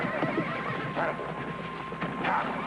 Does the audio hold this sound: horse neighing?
yes